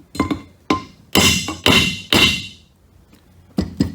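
Hammer strikes on a Polaris Ranger rear differential part: about seven sharp metallic taps in uneven groups, a few ringing briefly, close and loud with no talking.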